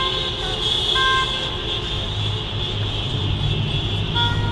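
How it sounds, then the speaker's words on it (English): Car horns honk at a street car protest in Kyiv. Sustained toots and short blasts from several vehicles sound over steady traffic rumble, fairly near and moderately loud. "There's some type of car protest right now."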